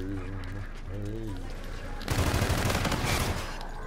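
Video game gunfire from Call of Duty: Infinite Warfare, a dense burst of rapid automatic shots in the second half, following a stretch where a voice talks over a low game hum.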